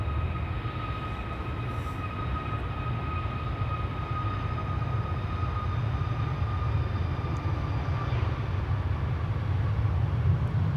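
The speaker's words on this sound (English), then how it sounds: "there is a MAX 8 737 taking off first right Cheaters Lane" A Boeing 737 MAX 8 takes off at Amsterdam Schiphol Airport, heard as a steady, distant jet roar and rumble holding level throughout, with no voices.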